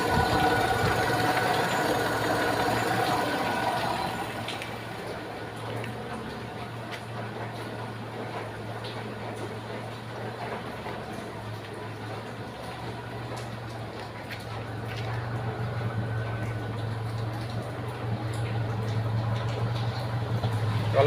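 A carbureted Toyota Kijang engine idles with evenly adjusted valves, giving a steady, low exhaust drone that stays continuous throughout, slightly louder at the start and end, with no talking.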